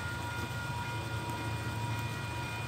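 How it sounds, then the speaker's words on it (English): A steam train rumbles steadily nearby with a low, constant drone and faint mechanical rattling, no voices over it. "We have the steam train coming."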